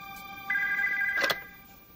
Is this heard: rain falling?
no